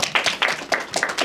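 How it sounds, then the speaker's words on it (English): A small school audience at a geography bee claps and applauds for Miss Williams in a short, steady round of loud, close hand claps. "Let's give Miss Williams a big round of applause"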